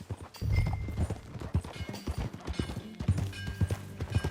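Horse hooves clip-clop at a steady walking rhythm while riding in Red Dead Redemption 2, close and clear, with soft ambient outdoor sound and brief faint voices.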